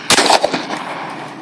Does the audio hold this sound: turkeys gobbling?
no